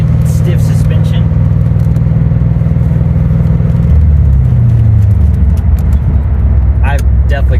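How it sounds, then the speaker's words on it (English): A 1990 Chevrolet Corvette with the L98 V8 and Z51 package, its engine droning loudly and close, the pitch climbing as it revs up partway through, with brief talk over the rumble. "If you get that sound of the L98, this is a 1990."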